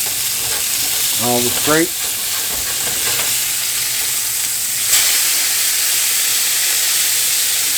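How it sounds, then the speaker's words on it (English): Burger patties for a cheeseburger bagel sandwich sizzle loudly and steadily in a pan as they are flipped, with a brief spoken phrase over the frying. "I'm trying to flip these burgers."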